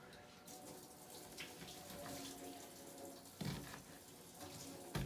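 Tap water runs steadily while rice is rinsed, a faint continuous splashing with a few louder sloshes and knocks from the bowl.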